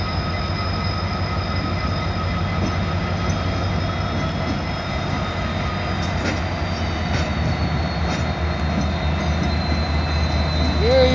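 A Norfolk Southern track geometry train reverses into a rail yard, with a loud continuous rumble of rolling cars, steady engine drone and intermittent metallic wheel squeals and clicks.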